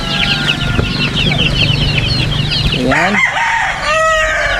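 White lemon breed chickens and roosters on a Philippine farm, loud and close, with steady clucking and several roosters crowing over one another, and someone speaking briefly.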